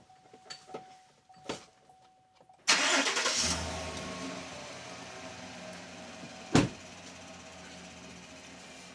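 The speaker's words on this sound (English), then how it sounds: "Need to start the engine." A car engine cranks briefly and catches, then settles into an even idle, preceded by a few light clicks and interrupted near the end by one sharp knock.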